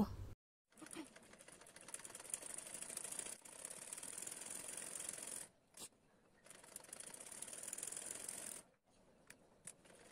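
A sewing machine runs in several bursts, stitching the front pieces of palazzo pants with a half-inch seam, a fast buzzing whir that stops and restarts with short quiet gaps between runs.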